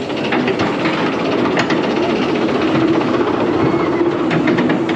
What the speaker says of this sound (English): Yeah, last train, here we go. On Shockwave.